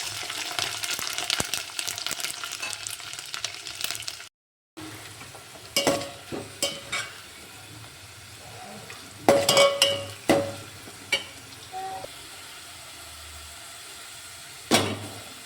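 Garlic and dried red chillies fry in hot oil, giving a soft, steady crackle with scattered sharper pops and stirring scrapes, and a brief dropout partway through.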